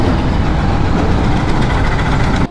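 A motorcycle engine idling at a TVS repair workshop, a loud steady low rumble running continuously before cutting off abruptly at the very end.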